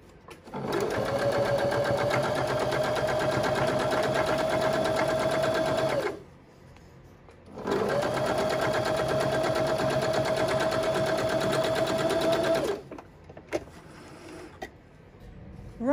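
A sewing machine stitches a seam in cashmere for a Christmas stocking, two long, loud bursts of rapid buzzing needle action separated by a brief pause, ending with a few small clicks.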